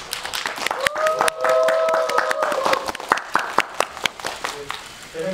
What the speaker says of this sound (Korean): 주요 배우분들 너무 많이 고생해주셔서 박수 한번 부탁드릴게요.